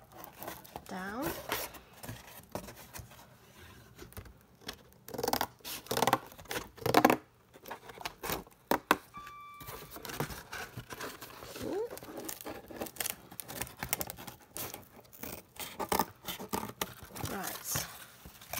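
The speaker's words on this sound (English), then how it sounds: "try to do this with the scissors." Scissors snipping paper to make a primitive-style dolls house album cover, quick irregular cuts with paper crinkling and rustling close by, no talking.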